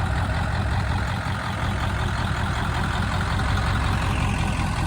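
A 1997 Ford F250 with a 7.3 Powerstroke diesel engine runs with a loud, steady low clatter and rumble, close by and continuous, with no talking.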